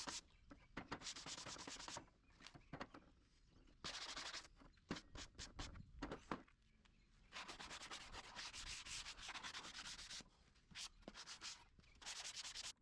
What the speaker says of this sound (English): This clip shows me giving the base a sanding, with a sanding block, to remove any splinters.